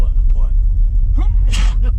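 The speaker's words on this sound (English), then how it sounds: "had a sneeze there" A single sharp sneeze bursts out over a steady low engine rumble, like from inside a moving car.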